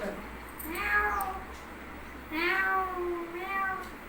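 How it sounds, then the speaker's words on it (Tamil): A cat meows twice, a first drawn-out call and then a longer, wavering one, close and clear over a quiet background hum. "பூனை,"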